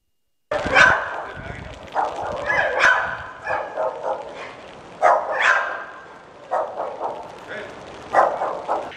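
Several dogs bark and yip repeatedly at close range in choppy bursts, with a voice talking over them.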